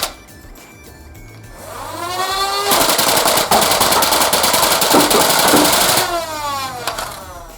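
A Sci-Fi toy blaster fires Worker Gen 3 foam darts in a rapid buzzing burst, its whirring motor spinning up first, then a sustained loud mechanical rattle of repeated shots for several seconds before winding down; no talking.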